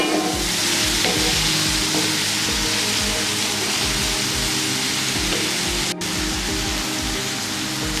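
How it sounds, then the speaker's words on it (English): Steady, loud sizzling of onions frying in a hot skillet, with occasional stirring scrapes and clatter underneath. "the onions is beginning to sizzle and everything at the base of the skillet"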